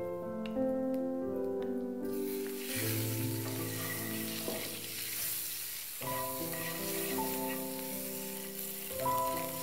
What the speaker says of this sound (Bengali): ডিম দুটোকে আমরা হালকা করে ভেজে নেব।